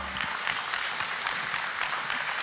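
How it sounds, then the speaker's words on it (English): An audience at a startup contest final claps in a brief, dense burst of applause at moderate distance. "Give a big round of applause for Deckard."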